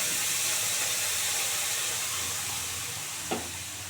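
Coconut-based ground spice paste fries in a pan for a coconut rui fish curry, giving a steady, close sizzle and hiss that eases slightly over time, with one brief clatter near the end.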